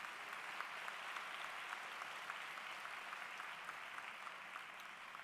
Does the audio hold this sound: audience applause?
yes